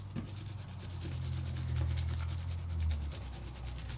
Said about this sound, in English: Give a nice burnish.